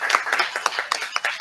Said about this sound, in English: I would like to clap